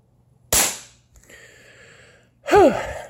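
Two loud, sharp gunshots crack at an outdoor shooting range, one near the start and another a couple of seconds later, each trailing off in a short ringing decay, with a faint tonal sound lingering between them.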